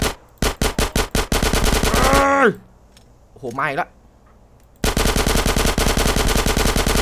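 Rapid automatic gunfire from a GTA San Andreas Definitive Edition gunfight: loud bursts at the start, a pause while someone talks, then sustained, dense shooting to the end.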